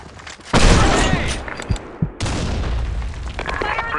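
A grenade explodes in the Broken City map of a first-person shooter, a loud boom at the start rolling into heavy rumble, with a second blast and scattered gunfire cracks following.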